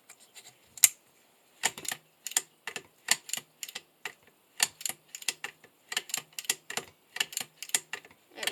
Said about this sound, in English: You hear that clicking? It's the metal spring tab getting hit by the bolt.